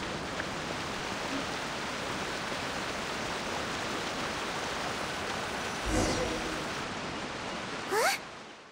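A small waterfall in the video game Genshin Impact gives a steady, even rush of falling water that fills the whole stretch, with a couple of brief game effects breaking in near the end.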